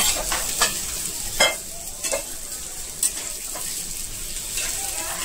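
Potato and prawn dry masala fries in oil in a pan, a close, steady sizzle broken by repeated scraping strokes of a stirring spoon.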